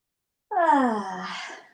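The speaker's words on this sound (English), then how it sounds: "Maybe invite another yawn." A long, drawn-out voiced exhale rising then sliding down in pitch, like a stretched yawn, close and fairly loud with no talking.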